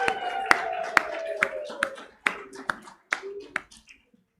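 A small audience at a professorial inauguration claps in a sparse, uneven scatter of distinct hand claps that thin out and stop, with a voice speaking over the start.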